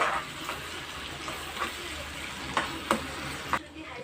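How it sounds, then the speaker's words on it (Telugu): Ginger garlic paste fries in masala for a spicy fish curry, giving a continuous close sizzle with a few sharp scraping stirs punctuating it, loud and steady throughout. "ఒక రెండు స్పూన్ల అల్లం వెల్లుల్లి పేస్ట్ వేసుకోవాలన్నమాట పచ్చివాసన పోయేంత వరకు ఫ్రై చేసుకున్నాము"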